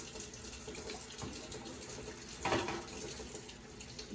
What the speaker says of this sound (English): Again, wash your instruments under the water.